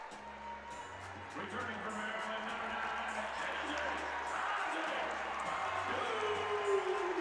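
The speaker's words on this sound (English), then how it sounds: "this crowd erupts" Crowd noise in a women's college basketball arena during Iowa at Maryland, a broad steady roar swelling gradually under a commentator's voice, with horn-like tones sounding in the background.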